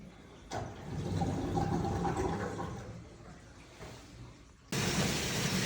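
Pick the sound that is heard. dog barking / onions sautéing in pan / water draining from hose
water draining from hose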